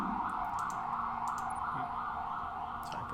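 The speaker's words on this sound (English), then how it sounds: "Sorry for the sirens outside there." Emergency vehicle sirens wailing outdoors, a steady continuous tone holding throughout the clip at moderate distance with faint background noise.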